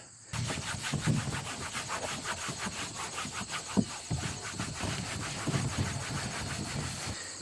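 Steady rubbing and scrubbing strokes of a rag with alcohol on the bottom of a small Pond Prowler 10 boat, close and continuous, with a rough rhythmic texture over the whole span and one sharper knock midway.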